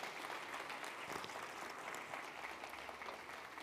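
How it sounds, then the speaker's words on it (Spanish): A church congregation applauding with more force, a continuous dense clapping from many people held at an even level for several seconds. "Más fuerte el aplauso al Señor."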